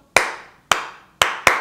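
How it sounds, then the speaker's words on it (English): Four sharp hand claps ring out close and loud with uneven spacing, the last two quicker together, each with a brief room echo, as in a preschool circle time Bingo song. "Four claps."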